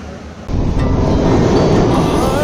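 A passenger train rolls along the coastal Galle to Colombo line in Sri Lanka, a loud rumble of wheels and carriage rattle rising sharply after a moment and continuing steadily, heard from on board.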